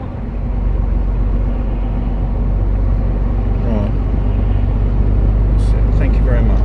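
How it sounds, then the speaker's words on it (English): Steady low rumble of morning road traffic around an HGV cab, a continuous engine drone with passing vehicles, loud and close throughout. "So I'm in amongst all the bloody morning traffic now."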